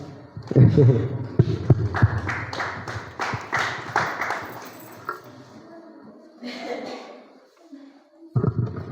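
A group of students applauding a classmate at an award ceremony, with several seconds of quick, close claps and voices speaking before and after.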